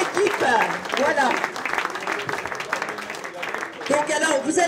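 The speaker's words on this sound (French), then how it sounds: "on peut l'applaudir aussi bien, ainsi que toute l'équipe" Audience applause at a Roland Garros event, clapping that swells and then fades while an announcer speaks over it, with another burst of clapping near the end.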